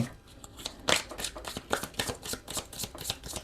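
Tarot cards being shuffled by hand: rapid riffling and crisp flicking card slaps in quick uneven bursts, close to the ear, with no talking.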